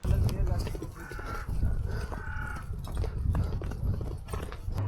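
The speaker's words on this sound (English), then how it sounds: "I'm very happy to be riding a horse." Horse hooves clip-clop steadily beneath a loud, busy mix of voices and wind while riding a horse in the Egyptian desert.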